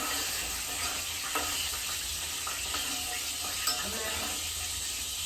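Bitter gourd pieces frying in hot oil, a steady close sizzle with occasional pops and stirring clinks, a voice faintly present underneath.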